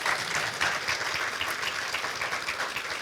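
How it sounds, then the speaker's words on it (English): Audience at a panel discussion on island home issues applauds steadily and loudly for the panel, a dense wash of many hands clapping for three seconds with no speech. "Could I ask for a big round of applause for our great panel?"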